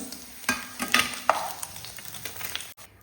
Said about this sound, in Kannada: ಪನ್ನೀರ್ ಫ್ರೈ ಆದದ್ದು ಸಾಕು ತೆಗೆಯುವ ಇದನ್ನು